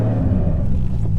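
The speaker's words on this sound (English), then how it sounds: "You can hear my clutch disc. It whines pretty loud with those pucks." Six-puck clutch disc in a Mk3 Toyota Supra on a canyon drive, a loud, close, continuous whine riding over low engine and cabin rumble for about a second.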